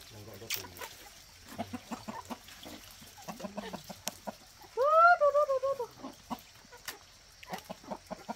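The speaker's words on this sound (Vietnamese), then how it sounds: "Gà này giờ như gà rừng ấy nhỉ?" Chickens roaming free on a forested mountain hillside give scattered soft clucks, then one bird lets out a loud, drawn-out cackling call near the middle, with people talking quietly between the calls.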